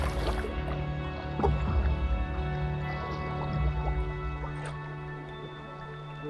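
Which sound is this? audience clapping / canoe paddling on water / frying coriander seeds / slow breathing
canoe paddling on water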